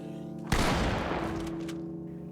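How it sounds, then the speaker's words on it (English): A single shotgun blast in the Project Zomboid video game, a sudden loud boom followed by a decaying rumble over a steady background hum. "I quickly raised my shotgun and put down the mindless feral menace"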